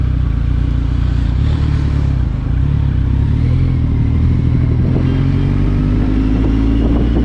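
A 2019 Kawasaki Ninja 1000 superbike's engine drones loudly while riding, a steady low rumble with a faint rising pitch as it pulls, joined by wind noise.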